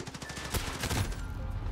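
Call of Duty light machine gun firing in rapid, sustained automatic bursts, loud and close, with the dense crackle of gunfire filling the whole moment and no talking over it.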